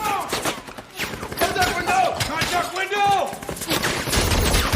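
Chaotic gunfire from a firefight in the 2014 film American Sniper, sharp bursts and shots mixed with shouting and dramatic score, loud and dense throughout.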